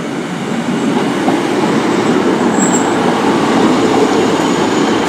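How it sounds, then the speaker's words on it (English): A Class 150 diesel train rumbles past close by at Newton Abbot in the evening, with a steady, continuous engine and rolling noise, no voices. "And there's also a Class 150."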